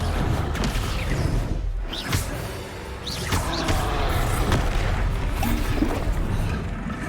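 Descendo spell impact in Hogwarts Legacy during a battle, a loud, dense wash of magical whooshes and crashing booms with sharp transients around two and three seconds, sustained under continuous combat noise.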